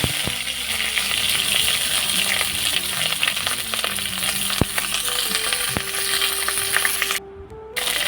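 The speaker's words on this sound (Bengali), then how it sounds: "তো বন্ধুরা এখন আমি পটলগুলো ভেজে নিব।" Potol (pointed gourd) pieces frying in oil in a pan: a loud, steady sizzle with repeated scraping and clattering from stirring and a brief dip near the end, with no talk.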